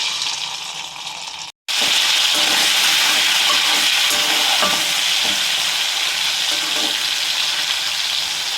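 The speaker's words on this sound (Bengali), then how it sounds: "চিংড়ি মাছটা ভেজে তারপর এসে তোমাদের সঙ্গে দেখাচ্ছি" Prawns frying in hot oil for a Bengali prawn and taro stolon dish, a loud, dense, continuous close sizzle with a brief cut near the start, then steady spitting and crackling throughout, no voices.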